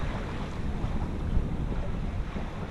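Wind rushing past while sailing a boat on a broad reach, a steady broadband roar with microphone buffeting and faint water noise underneath, continuous throughout.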